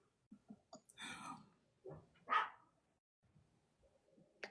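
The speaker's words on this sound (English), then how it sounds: "sorry about the barking in the back" A dog barks in the background of a podcast conversation, giving several short, faint, scattered yaps and woofs spread unevenly across the moment.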